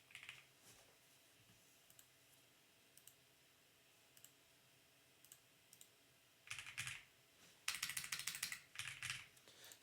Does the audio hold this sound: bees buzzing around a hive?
no